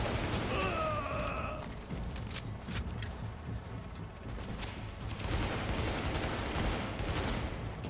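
Enemy gunfire in The Division, with bursts of rapid automatic shots and scattered single cracks, a brief tonal game cue early on, then dense sustained firing later, heard at moderate distance under game noise.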